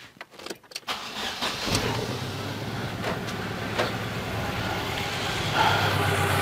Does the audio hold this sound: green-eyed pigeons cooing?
no